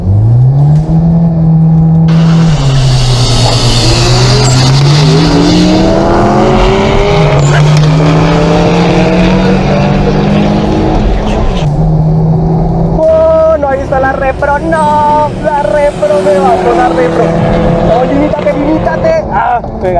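A Hyundai Genesis 2.0T in a quarter-mile drag race rematch, its engine revving loudly and climbing through gears with rising and falling pitch, close and continuous, with speech heard over it.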